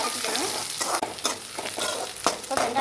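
Onions frying in oil with mustard seeds sizzle loudly and steadily while a spoon stirs, scraping and knocking against the pan in repeated strokes close up.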